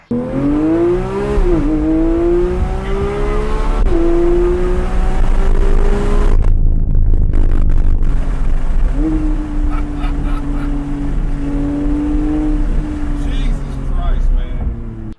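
A Porsche GT2 sports car driving, its engine note rising and falling in long sweeping pitch changes with a brief burst of rough mechanical noise midway, loud and close throughout.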